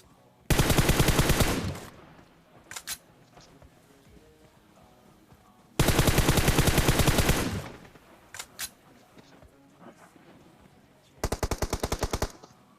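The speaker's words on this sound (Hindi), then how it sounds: "लेकिन मैं गोली चलाना रोकता नहीं" Automatic gunfire from the PUBG Mobile video game comes in long rapid bursts, loud and close, with a few scattered single shots and a final shorter burst between quieter stretches.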